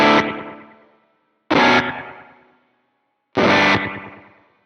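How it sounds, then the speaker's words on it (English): Electric guitar through an HX Stomp on a slapback small-room preset: three loud, bright strummed chords, each ringing out with a short echo and fading to silence before the next. "Real slappy, slapback, small room kind of sound."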